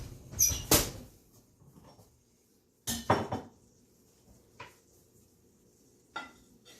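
Ceramic bowls clink and clatter on a kitchen counter as they are handed out during pasta and sausage serving, with a loud burst of knocks at the start, another cluster around three seconds, then two lighter isolated taps.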